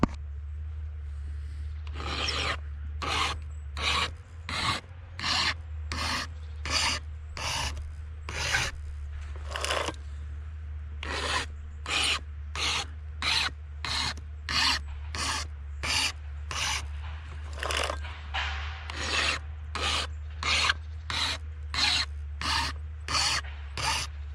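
A chainsaw chain being sharpened with a hand file, a long series of rhythmic rasping strokes, each a short gritty scrape with brief pauses between, close up and steady, over a faint low hum with no talking.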